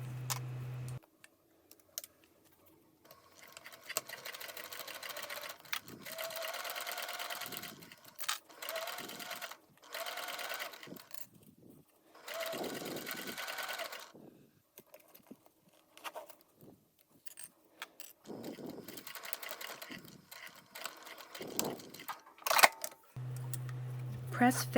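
A sewing machine stitches bag fabric along a 3/8 inch seam in several close bursts of rapid whirring, stopping and starting, with quiet pauses between runs.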